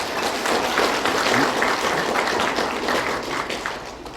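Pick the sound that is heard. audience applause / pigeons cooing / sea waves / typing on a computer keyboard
audience applause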